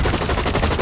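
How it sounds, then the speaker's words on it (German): Rapid automatic gunfire from the online shooter Blacklight Retribution during a team deathmatch, a dense, loud burst of closely spaced shots lasting under a second, with no speech. "Ich höre Schüsse."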